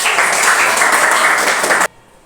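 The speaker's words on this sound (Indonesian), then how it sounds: "Tepuk tangan." A classroom full of students clapping together, dense continuous applause for nearly two seconds that stops abruptly, leaving near silence.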